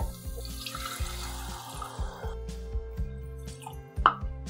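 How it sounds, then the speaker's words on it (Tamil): Water splashes and trickles into a pot of tomato rice, with a few drips and plops toward the end over a low rhythmic hum in the background. "இப்போ நம்ம தண்ணி சேர்க்கலாம்."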